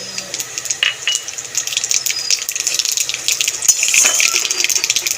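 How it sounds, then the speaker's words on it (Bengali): Black cumin seeds tempering in a little hot oil in a wok, a steady bright crackle and hiss close by with a few small clinks of a utensil against the pan, no talk. "ফোড়ন দিয়ে দেবো তেলের মধ্যে কালো জিরে"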